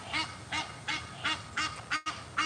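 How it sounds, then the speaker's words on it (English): Geese or ducks honking in a rapid series of about seven loud calls spaced roughly half a second apart, close by and outdoors, with no talking. "Look at the ducks."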